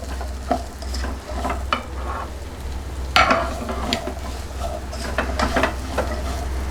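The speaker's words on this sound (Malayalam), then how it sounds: "എന്നിട്ട് നന്നായി വഴറ്റി കൊടുക്കുക." Onions and green chillies sautéing in a pan for pepper chicken, a steady sizzle under scattered scraping and stirring clatters from a spoon, close and continuous.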